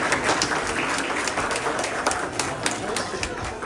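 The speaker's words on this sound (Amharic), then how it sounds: "አጨብጭቡላት።" Steady applause from a classroom of students honouring a top pupil receiving a prize at a church school, dense clapping running throughout at a fairly even level with chatter mixed in.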